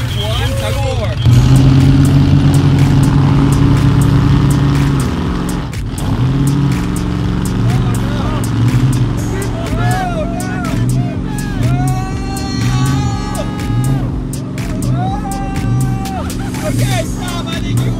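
Monster trucks rev loudly in a tug of war, engines holding a heavy, droning roar with repeated surges, close up and sustained under people talking and shouting.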